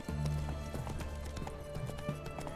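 Roach, the horse in The Witcher 3, gallops with rapid rhythmic hoofbeats, close and steady over a low music bed.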